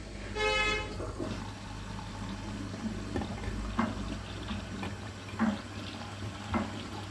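A household washing machine draws water into its half-loaded drum of light-coloured laundry, giving a steady rushing water-fill sound under a low mechanical hum, with a few faint clicks and knocks.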